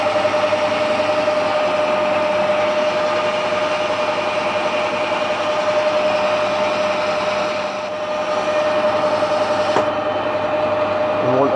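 Lathe turning a bronze bar down for a compressor drain valve part, a steady continuous machining drone with a constant tonal whine, loud and unbroken throughout.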